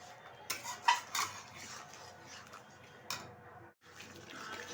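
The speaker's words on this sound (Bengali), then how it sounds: "অনবরত নেড়ে মাটনটা রান্না করে নিচ্ছি" Mutton is stirred in a kadai for a Durga Puja Navami curry, with faint metallic clinks and scrapes of a spatula against the pan over a low sizzle, a few louder knocks early on.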